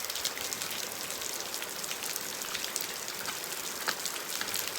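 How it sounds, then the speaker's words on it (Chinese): Fine drizzle driven by wind during a night storm in a mountain village falls as a soft, even patter of light rain with scattered droplet ticks, steady and fairly faint, with no voices. "边下雨边吹风，你看那些毛毛细雨，它就被吹进来了"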